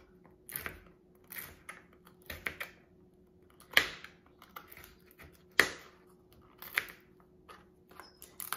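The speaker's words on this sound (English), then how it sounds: "you're gonna cut these size avocado seeds, maybe 3 or 4" Knife chopping avocado seeds into small pieces: irregular, crisp cutting cracks and knocks on a board, a few louder strikes among softer ones, close by in a quiet room.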